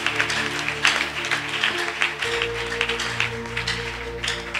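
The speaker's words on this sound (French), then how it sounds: "Acclame encore très fort le Seigneur" A church congregation at a morning prayer service claps loudly and continuously, a dense, sustained applause over a steady background hum.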